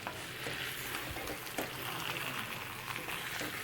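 Chicken perattal frying in a pan over a low flame gives a steady, close, hissing sizzle with faint stirring scrapes throughout, and no voices.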